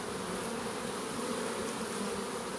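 A swarm of honeybees buzzes thickly and continuously all around, a dense, even drone with no voices.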